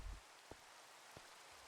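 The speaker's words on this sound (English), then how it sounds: "Still raining indoors." Steady soft rain in a Minecraft world hisses evenly throughout, faint and continuous, broken by a couple of tiny clicks.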